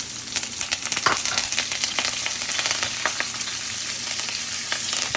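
Curry leaves crackle and sizzle in hot oil in a pan as long beans are stir-fried, a continuous bright fry with sharp pops and spits scattered throughout, close and moderately loud.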